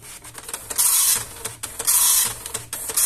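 An Epson LX-300 dot matrix printer runs its self-test, printing in loud, harsh buzzing bursts broken by short pauses as the head travels across continuous paper.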